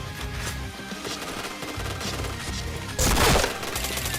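Video game gunfire comes as rapid, loud, close bursts of shots over steady game sound, with a heavier crashing burst near the end.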